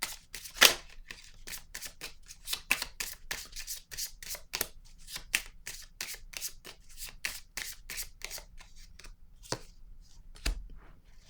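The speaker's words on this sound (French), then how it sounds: "Attendez, je vais piger une autre carte." Tarot cards are shuffled and drawn by hand, giving a long run of quick, crisp card flicks and riffles, close and soft, with a few heavier taps near the end and no speech.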